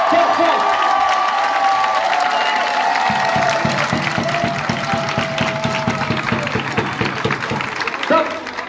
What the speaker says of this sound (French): on applaudit les Canaries